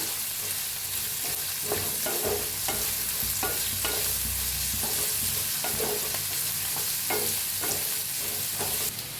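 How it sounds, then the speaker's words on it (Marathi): Sliced onions fry in a pan while being stirred for egg curry, a continuous moderate sizzle with regular spatula scrapes and knocks every second or so, no speech. "कांदा हलवून छान असा भाजून घेऊया"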